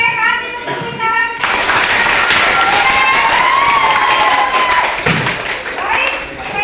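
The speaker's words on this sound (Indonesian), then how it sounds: "Oke, kasih tepuk tangan." An audience claps at a workshop session on going plastic-free after a presenter's call, steady clapping for several seconds with scattered taps and thumps and a voice briefly audible.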